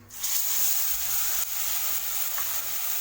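Ground shallots sautéing in hot oil with fried curry leaves, a bright, steady sizzle close up that starts suddenly and hisses on without a break, with no voices.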